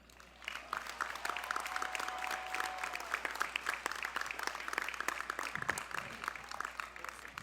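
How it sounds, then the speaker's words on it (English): Sustained audience applause fills a high school graduation ceremony, steady dense clapping from a large crowd lasting the whole stretch, with faint voices and a brief tonal note mixed in. "let's please give another huge round of applause for graduates number 3 through"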